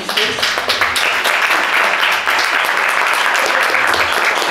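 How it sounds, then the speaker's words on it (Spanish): Audience at an expanded-cinema screening event at a cinema breaks into loud, sustained applause, dense clapping filling the whole stretch with a few whoops and voices mixed in. "quiero que le den un fuerte aplauso a las"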